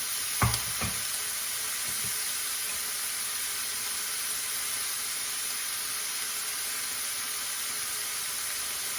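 Vegetables for egg shakshuka with tomato and bell pepper cook gently in oil over low heat, giving a steady, even sizzle throughout, with a couple of brief knocks near the start.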